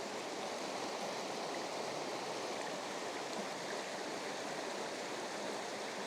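A river stretch flows in a steady, even rush of water, a constant hiss with no breaks, moderately loud and close, with no voices or other sounds.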